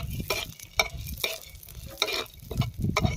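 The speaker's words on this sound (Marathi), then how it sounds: "डाळ सगळी पुन्हा व्यवस्थित भाजून घ्यायची." Dal is roasted in a little oil on a pan as a spatula stirs and scrapes in quick, close strokes over a soft sizzle, with no talking.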